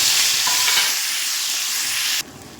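Nigella seeds and green chillies dropped into hot oil set off a loud, dense crackling sizzle that holds steady before suddenly cutting down to a much quieter hiss near the end, close up with no voices.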